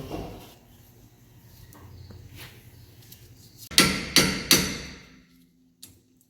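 Hammer striking an impact screwdriver on a Kia front brake rotor, three sharp metallic blows in quick succession after a quiet stretch of faint shop noise.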